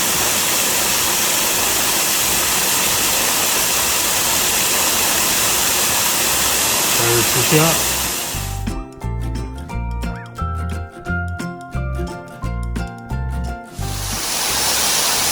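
Bald Rock Falls pours a steady, loud broadband rush of water, which drops out around the middle as a beeping, clicking camera-like pattern takes over before the roar returns, with a brief spoken remark.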